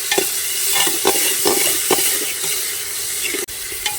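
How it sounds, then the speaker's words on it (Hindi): Chopped onions frying with salt in a pressure cooker pot in a rustic village kitchen, a steady close sizzle broken by repeated scraping stirs of a spoon against the metal, no talking. "1 से 2 मिनट तक अच्छे से प्याज को भून लेंगे।"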